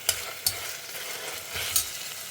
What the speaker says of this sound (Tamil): இஞ்சி பூண்டு விழுது போட்ட கையோடையே நீங்கள் வெங்காயத்தை போட்டிங்கன்னா தெறிக்காமல் இருக்கும்.